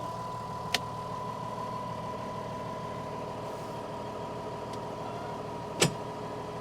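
A new farm tractor's engine idling with a steady, low mechanical drone and hum that stays even throughout, broken by two sharp clicks or knocks, no speech.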